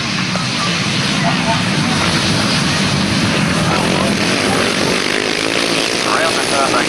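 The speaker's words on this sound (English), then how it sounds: "Take your fingers out of your ears. This is Grasstrack racing." Grasstrack racing motorcycles roaring past at a 1991 Maidstone Aces meeting, a loud continuous engine blare filling the whole stretch, with crowd or announcer voice mixed in.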